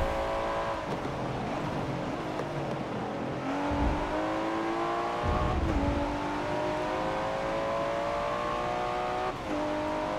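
A race car engine revs hard and shifts up through the gears in Forza 7, a Liberty Walk GT-R in a Driver's Cup race, with a loud, continuous rising whine broken by brief gear-change drops.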